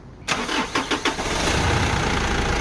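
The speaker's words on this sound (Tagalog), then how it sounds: "So ngayon paandarin natin ang makina. Engine start" A 2010 Mitsubishi Strada's 4M41 turbo diesel cranks with a few rapid starter chugs, then catches and settles into a steady, loud idle close by, with no voices.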